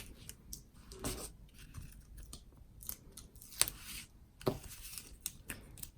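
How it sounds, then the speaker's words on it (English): Backing is peeled off card adhesive in short papery crackles and rips, close and quiet, in a few separate bursts. "Peel off the backing."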